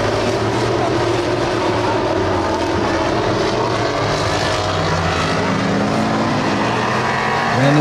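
Race cars speed around a track in a loud, continuous engine roar that stays steady and close throughout, swelling slightly at the very end.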